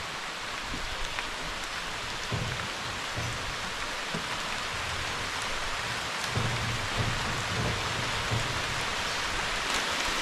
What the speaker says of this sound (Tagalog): May ulan naman oh.